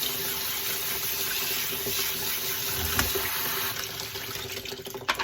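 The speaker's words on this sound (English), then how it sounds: "I have my lentils here and I need to wash them. So just rinse them off." Lentils rinsed under a running kitchen tap, a steady close wash of flowing water with faint splashing as the grains are swirled, lasting throughout with no talk.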